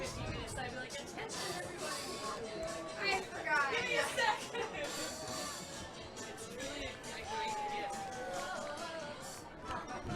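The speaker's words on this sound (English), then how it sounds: "Crowd settling in into the second half." A stadium crowd at a 2019 Premier Ultimate frisbee game between the New York Gridlock and Columbus Pride murmurs in a continuous babble of distant chatter, with a commentator's voice over it.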